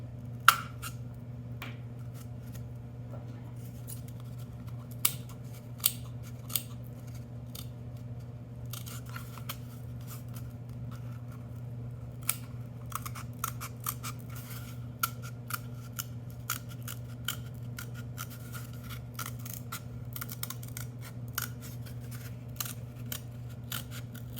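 Scissors snip through paper while cutting out a circle for a youth craft: many small, sharp clicks and crunches spread unevenly over a low, steady hum, close up and fairly quiet.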